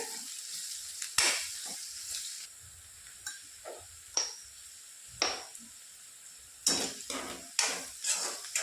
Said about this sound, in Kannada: ಶುಂಠಿ ಬೆಳ್ಳುಳ್ಳಿ ಪೇಸ್ಟ್ ಹಾಕಿ ಚಲೋತ್ನಾಗ ಮಿಕ್ಸ್ ಮಾಡ್ಕೊಂಡು ಸ್ವಲ್ಪ ಅರಿಶಿನ ಪುಡಿ ಹಾಕೋಬೇಕ್ರಿ